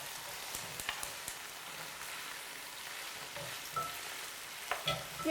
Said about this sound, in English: I'll put some oil in our other pan and get it started.